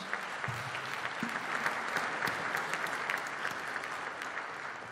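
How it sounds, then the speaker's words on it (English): Conference attendees at a development finance forum applaud a panel, a sustained, moderately distant roar of clapping from a large room with a few sharper claps standing out. "Please, let's give a round of applause to the panel"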